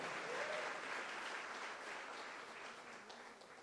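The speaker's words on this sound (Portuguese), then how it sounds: "uma salva de palmas para Jesus" Church congregation applauding steadily throughout, a dense, continuous wash of clapping at moderate level that eases slightly toward the end, with no speech over it.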